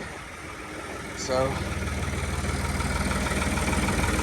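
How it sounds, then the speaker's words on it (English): A farm tractor without a cab idles in cold winter weather, a steady close low rumble throughout, with a brief spoken word partway in. "I'm having to use the darn tractor without a cab because the battery's dead on mine."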